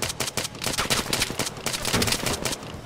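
Rapid bursts of heavy .50 BMG gunfire in Arma 3, loud and close, with sharp repeated shots in an uneven rhythm throughout.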